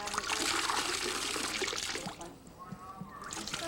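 Water trickles and splashes from a soaked car-washing sponge, a steady wet patter that thins out partway through, heard close with faint background noise.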